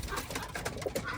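Pet pigeon cooing softly at close range, a few low throaty coos rising over a quiet, noisy indoor background.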